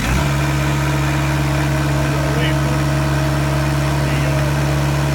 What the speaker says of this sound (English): we'll push down on the Murphy switch to start the engine